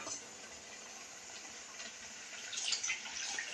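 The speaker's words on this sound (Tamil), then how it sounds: "தேவையான அளவு தண்ணி ஊற்றிக்கலாம்," Water pours steadily into a cooking pot with a soft, hissing splash that swells slightly toward the end.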